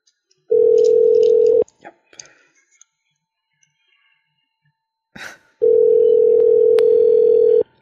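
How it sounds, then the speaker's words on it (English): A telephone line tone sounds loud and steady in two long bursts while calling a cell phone, separated by a quiet gap with small clicks and a faint breath. "All right, so we are calling. We have the cellular number right now"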